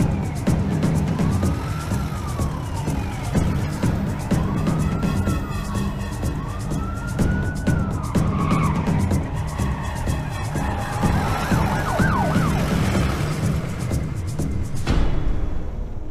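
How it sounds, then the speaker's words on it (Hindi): An ambulance siren wails in a movie scene, its rising and falling tones repeating loudly for several cycles over heavy traffic and engine noise before cutting off abruptly near the end. "सर गगन जिस एम्बुलेंस में है वो निमहंस की जगह दूसरी साइड से जा रही है।"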